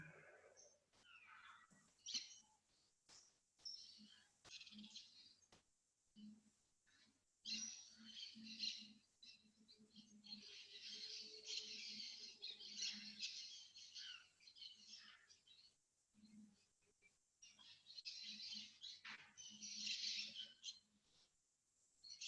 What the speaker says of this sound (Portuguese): Am I listening to parrots?